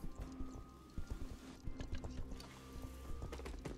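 Goat hooves clip-clopping across a floor in the Sker Ritual video game, a rapid run of light, close taps with steady ambient hum beneath, no talk.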